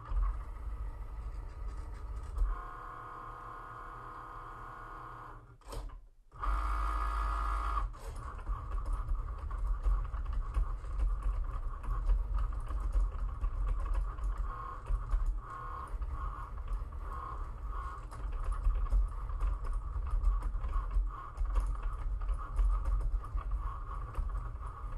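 An electronic cutting machine slices a square from cardstock, its steady motor hum and carriage whir running continuously, with a brief pause and shift in tone before the cutting resumes at a constant level.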